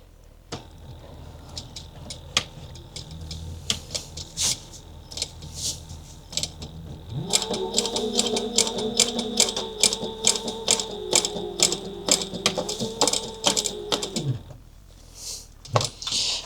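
A sewing machine basts along the sides of a clutch wallet, with a steady mechanical whir running for about seven seconds, framed by scattered clicks and taps of handling before and after.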